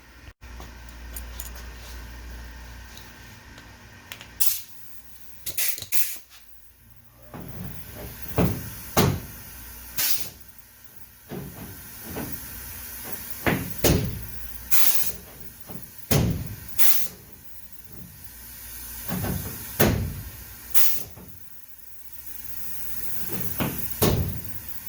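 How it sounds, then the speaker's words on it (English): On a 1955 Chevy gasser, a crimping tool works its way around the edge of a patch panel at the wheel well. Sharp pneumatic bursts repeat at a steady pace over a constant hiss of air, loud and close. "I'm going to go around the panel, I'm going to crimp"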